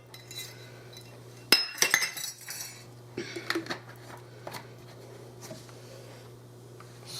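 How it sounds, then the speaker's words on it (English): A spoon clinks and scrapes against a bowl while coffee cake batter with flour is mixed, several quick sharp taps then softer scraping strokes over a faint steady hum. "And I'm going to mix all this together."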